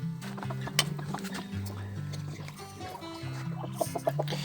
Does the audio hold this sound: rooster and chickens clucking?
yes